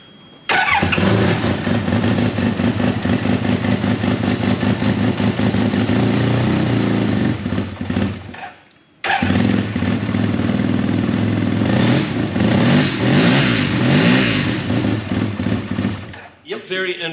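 A Suzuki RE5 rotary motorcycle engine fires up and revs loudly and up close, holding a steady buzzing drone with a brief drop around the midpoint before picking up again and cutting off near the end.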